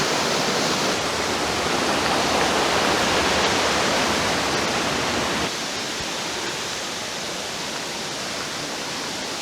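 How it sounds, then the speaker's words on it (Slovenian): Steady roaring wash of the first waterfall in Pekel gorge, Slovenia, a dense broadband rush of falling water heard close and loud throughout, easing slightly partway through as the position shifts, with no voices. "Evo, tole je že prvi slap"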